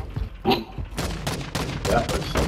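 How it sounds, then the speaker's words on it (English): Gunfire in an online extraction shooter video game comes as rapid bursts of overlapping shots at moderate loudness. A busy background runs underneath. "You are taking effective fire."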